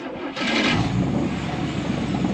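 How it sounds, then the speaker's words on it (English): A Cadillac engine cranks briefly, catches and settles into a steady, rumbling idle, heard close up with no talk. "Gentlemen, start your engines."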